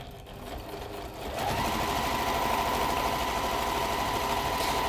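A sewing machine basting fabric at an eighth-inch seam starts up after a quiet moment and runs at a steady fast stitching hum to the end, close and clear with no talking.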